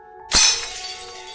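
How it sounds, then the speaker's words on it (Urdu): An old wooden dressing table in a courtyard topples and breaks with a sudden loud crash of shattering glass, followed by a lingering tinkle of shards that slowly dies away. "میری دادی کی جہیز کی پرانی سنگھار میز جو کہ صحن میں رکھی تھی اچانک گر کے ٹوٹ گئی"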